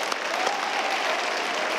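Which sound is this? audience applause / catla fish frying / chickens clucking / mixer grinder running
audience applause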